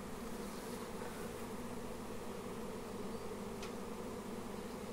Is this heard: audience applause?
no